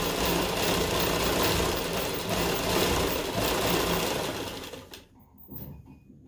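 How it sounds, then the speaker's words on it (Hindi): Sewing machine stitching around the hem of a palazzo, a steady loud whirring run that continues for several seconds before stopping abruptly near the end. "इस तरह नीचे की सेटिंग देखकर इसके पूरे राउंड में नीचे नीचे एक बार सिलाई लगाते हैं।"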